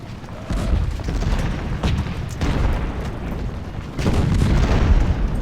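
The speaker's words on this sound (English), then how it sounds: "And then our cannons continue to fire." Cannon artillery booms in the Ultimate General: Civil War strategy game, a series of heavy, repeated blasts rolling one after another at close range with no talk.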